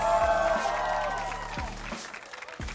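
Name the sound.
esports arena crowd cheering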